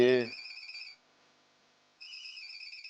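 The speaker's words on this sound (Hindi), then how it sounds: "फोन उठाइए ना।" A phone rings in two short electronic bursts with a second of silence between them, heard alone and close up.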